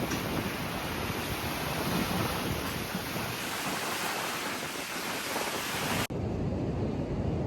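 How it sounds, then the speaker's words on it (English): Strong wind buffeting the microphone on Muri Beach, Rarotonga, Cook Islands, with a steady roar of surf behind it, continuous and loud, cutting briefly near the end. "Quite windy."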